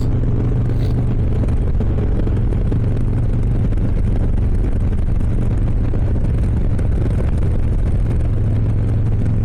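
A 2023 Harley-Davidson Low Rider S motorcycle is opened up on a scenic road in Washington, its engine droning loud and continuous under heavy wind rush for several seconds.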